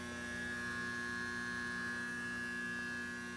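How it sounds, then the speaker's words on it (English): An ultrasonic cleaner holds lawn mower carburetor parts in cleaning solution and gives a steady, even electrical hum with no break, the same level from start to finish and nothing else heard over it. "So let me get this set up in the ultrasonic cleaner with some cleaner"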